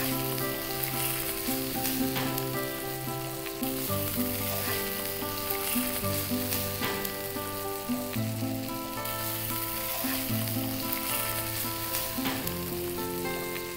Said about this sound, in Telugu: ఈ గ్రేవీ అంతా పోయి కొంచెం డ్రై అయ్యేదాకా ఫ్రై చేయాలి.